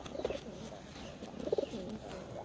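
A Madras pigeon gives two soft, low coos about a second apart, close by but quiet, over a light background hum.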